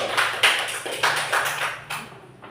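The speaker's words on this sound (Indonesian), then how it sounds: "Iya, tepuk tangan dulu." A school class claps hands in a classroom, giving a short run of scattered, fairly close claps with small gaps between them and no talking.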